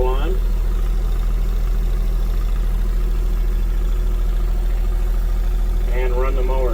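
A John Deere 1025R compact tractor with a Mauser cab runs with the PTO engaged, a steady low mechanical hum droning continuously throughout, with a brief whistle-like tone at the start and end.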